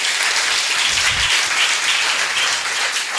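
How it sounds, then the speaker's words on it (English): Audience applause at an outdoor bench unveiling ceremony, a steady burst of many hands clapping together that holds for a few seconds. "So one last round of applause"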